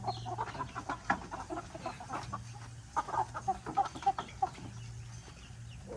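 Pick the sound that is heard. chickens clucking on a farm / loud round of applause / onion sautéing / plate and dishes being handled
chickens clucking on a farm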